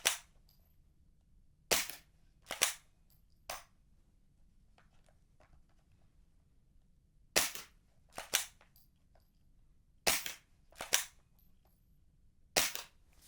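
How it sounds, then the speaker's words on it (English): A suppressed .22 rifle fires subsonic ammunition through a CAT BEN suppressor: about ten sharp, quiet cracks come singly and in quick pairs, separated by near silence. "This Ben is doing a fantastic job with subsonic ammunition."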